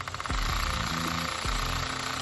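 A standard DeWalt half-inch drill runs in hammer mode, giving a loud, steady rattling hammer-drill roar that lasts almost the whole clip, with brief dips in speed.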